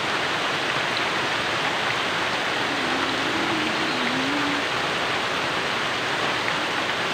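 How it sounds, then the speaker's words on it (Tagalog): Early-morning rain pouring down outdoors, a dense, even hiss of falling water that stays steady and fairly loud throughout, with no talking over it. "Alam mo ba yung sound ng rain, yung pagpatak?"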